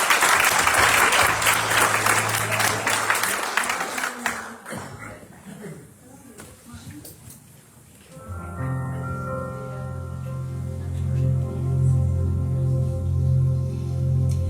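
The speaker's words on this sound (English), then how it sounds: "please, a nice, warm round of applause" Loud, dense applause from a large crowd for several seconds, fading to scattered clapping, then giving way to music.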